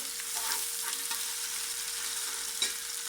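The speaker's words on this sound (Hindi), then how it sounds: "अब हम इसमें डालेंगे 2 चम्मच अदरक लहसुन का पेस्ट, इसको भी ब्राउन कर लेंगे।" Ginger garlic paste frying in a pan with browned onions for potato rice, giving a steady broadband sizzle with a few sharp spits, close and continuous, no voices.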